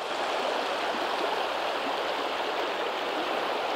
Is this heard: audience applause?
no